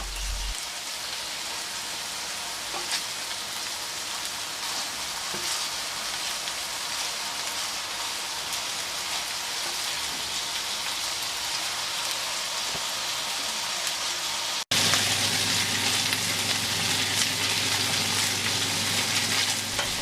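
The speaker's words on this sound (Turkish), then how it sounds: "hiçbir yağ eklemeden kendi yağında köftelerimiz güzelce kızarıyor" Steady, crackling sizzle of meatballs frying in their own fat in a pan with no added oil, close and continuous, getting a bit louder near the end; no talking.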